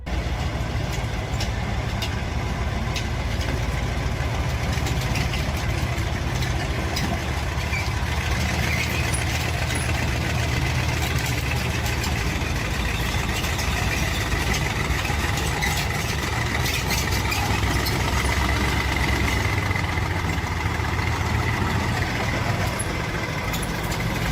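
A powerful high-performance car engine idles steadily and continuously, a deep even rumble with a faint high whine, close and unbroken throughout.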